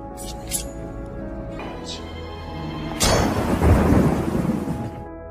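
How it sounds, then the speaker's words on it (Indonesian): A deep thunderclap breaks out and rolls on over steady, heavy rainfall, loud and near, with a voice speaking faintly beforehand. "Di luar hujan begitu deras, diiringi suara petir yang menggelegar."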